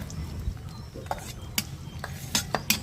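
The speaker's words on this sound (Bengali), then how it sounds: "নেড়ে চেড়ে ভেজে নিব।" Chopped onions stirred and fried in mustard oil with whole garam masala and a bay leaf in a wok for Bangladeshi duck curry, irregular metallic spoon scrapes and clinks over a low steady sizzle.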